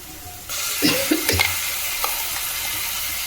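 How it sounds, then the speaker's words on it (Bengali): Onions fry in a pan with close, steady sizzling, broken by a few scraping stirs near the start. "পেঁয়াজটা ভাজা ভাজা হয়ে এসছে।"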